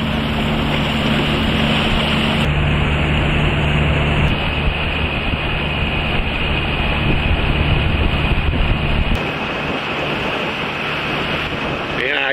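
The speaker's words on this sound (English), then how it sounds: "Got a train coming." A loud, steady roar of a train rolling past up close, continuous rumble and rushing noise for several seconds before easing slightly at the end.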